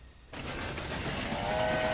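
A train whistle in the video game Railway Empire sounds over steady rumbling engine and rail noise, with the tone growing clearer toward the end.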